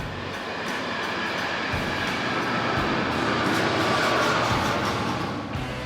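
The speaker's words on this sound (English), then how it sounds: "Bloody trains." A train rolls past, a steady loud rumbling roar of rail cars that holds throughout with faint rhythmic clunks underneath, and no voices.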